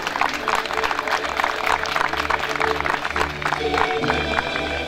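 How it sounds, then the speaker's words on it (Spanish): Applause and crowd noise at the opening ceremony of a FENFUR football tournament in Tirúa, greeting the delegation arriving from the Aysén region, with steady clapping filling the whole stretch. "Un fuerte aplauso para la delegación que proviene desde la región de Aysén."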